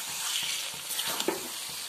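Spicy paneer fries in vegetable oil in a pan, a constant close sizzle broken by regular scraping stirs of a spatula, with no talking.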